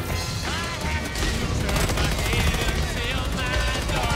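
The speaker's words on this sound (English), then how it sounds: "I'm keeping suppressive fire" Sustained suppressive gunfire in the Helldivers 2 video game, a dense continuous rattle of shots and blasts mixed with game effects, with voices talking over it.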